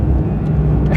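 Porsche GT3 engine at full throttle in second gear near 8,000 RPM, heard as a loud, dense, steady roar with a strong low rumble, brief and close.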